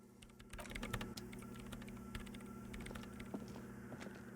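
Keyboard typing in the game Disco Elysium, a steady run of quick, light key clicks over a low humming machine drone, moderately close and without speech.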